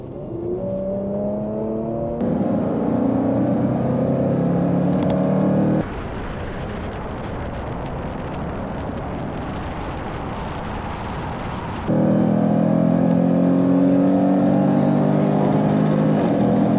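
A 2024 Jaguar F-Pace SVR with a supercharged V8 and a Porsche Macan GTS run a roll race, loud engines droning and pulling hard through gear changes, heard steadily from inside the car, with no talk.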